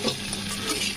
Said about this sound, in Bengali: পকোড়াগুলো ঢেলে দিয়ে আমি এর মধ্যে নাড়িয়ে নিচ্ছি, খুব ভালোভাবে মিলিয়ে নেব